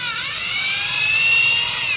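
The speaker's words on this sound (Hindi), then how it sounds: "जो कि इजी तरह से ये खुल जाता है ड्रिल मशीन से" An electric drill whines steadily at a high pitch as it loosens screws on a DTH satellite dish, loud and close, with a slight rise and fall in pitch and no talking.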